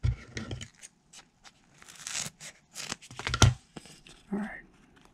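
Adhesive foam battery cushion being cut for a 3S 18650 lithium-ion pack, giving brief close crinkling, tearing and snipping noises in short bursts, with some handling sounds and a few spoken words in between.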